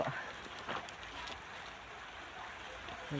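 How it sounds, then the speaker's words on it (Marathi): Soft, steady rain patters on a surface, a quiet continuous hiss with a few faint distant voices. "पाऊस चालू आहे बघा, अंगावर येणार."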